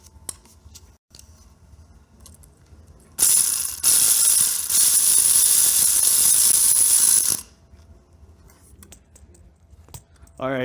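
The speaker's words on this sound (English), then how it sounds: "here's the video of the pump rake going" A pump rake lockpicking tool is worked rapidly in a lock without a tension wrench, a loud, dense metallic rattle lasting about four seconds between quieter stretches.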